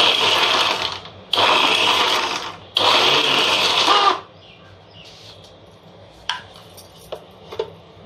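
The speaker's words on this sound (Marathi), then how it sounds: "चालू बंद मिक्सर केला की आपल्याला थोडंसं आणखी फिरवायला लागेल" Mixer grinder pulsing on ripe chilli thecha: three loud whirring bursts of about a second each, separated by short pauses, then quiet with a few light clicks and knocks of the jar.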